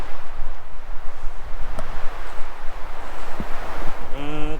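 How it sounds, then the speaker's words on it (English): Strong wind gusting during a spring snowfall in Montana, a loud rumbling roar buffeting the microphone throughout, with a few brief knocks and a short tonal sound at the end. "The wind is blowing pretty good too."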